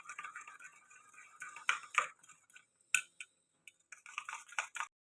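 A spoon mixes cream and mayonnaise in a bowl, making quiet irregular clinks and scrapes against the sides, with brief pauses between strokes.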